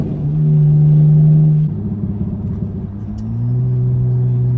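A tuned Dodge Charger SXT engine burbles low and steady on a back road, with a deep sustained drone that shifts pitch as it downshifts, the rumble dropping and rising again.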